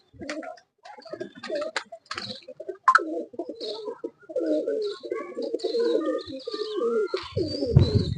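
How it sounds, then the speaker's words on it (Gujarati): Pigeons let out to feed coo repeatedly nearby in soft, throaty bursts, with chirps and light fluttering mixed in. "કબૂતર ખોલ્યા હે ચણવા નીકળે હવે બધા"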